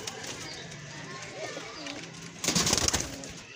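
Young pigeons of a fancy breed, kept by a pigeon keeper in Faisalabad, coo softly amid murmuring voices and background activity, and a louder, busier burst of sound rises near the end.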